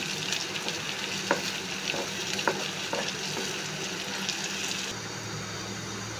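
Bitter gourd fry sizzles steadily in a pan, a dense crackling hiss with a few sharp stirring clicks, the frying noise thinning slightly toward the end.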